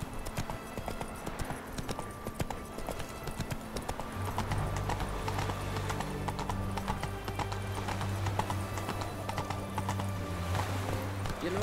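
Roach the horse gallops in The Witcher 3 video game, a loud continuous rhythmic clip-clop of hooves with rumbling movement throughout.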